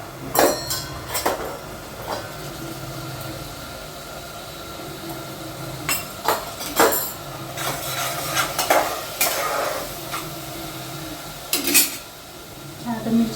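Potatoes sautéing in hot oil with asafoetida and turmeric, a low sizzle broken by repeated sharp clinks and scrapes of a spoon stirring against the pan, close and fairly loud.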